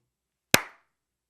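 A single sharp hand clap sounds close and loud in a quiet room during a podcast recording, with a short decaying ring afterward and silence on either side.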